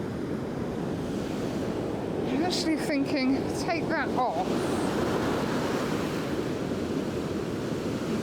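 Ocean waves roll in on the shore in a constant loud wash of surf with wind buffeting the microphone, while a person briefly speaks partway through.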